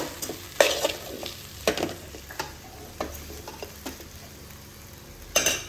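Coriander and chili powder being sautéed in a pan for a kathirikkai kuzhambu, with soft frying sizzle under repeated sharp scrapes and clinks of a spoon stirring against the pan, fairly quiet and close.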